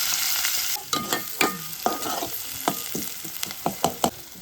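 Onion frying with curry leaves and green chillies in a pan, a steady close sizzle broken by irregular scraping stirs and light knocks of the spoon against the pan.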